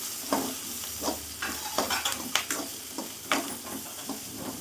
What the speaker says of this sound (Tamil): இப்போ இதோட நான் கட் பண்ணி வச்சுருக்கிற பீன்ஸ் காயை இதோட ஆட் பண்ணியிருக்கேன்